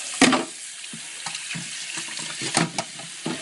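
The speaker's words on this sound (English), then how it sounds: "I'll run the sink, see how that goes." Water runs from a kitchen sink tap while cleaning parts of a Kogan vertical cold press juicer, a steady splashing hiss with a few louder bursts and clatters as the flow hits parts in the basin.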